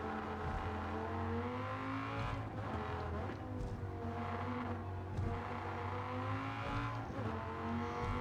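A Dodge Viper GTS races in the video game Gran Turismo 7 on Tokyo Expressway, its engine droning loudly and continuously as revs rise and fall under aggressive gear braking, with faint tyre noise.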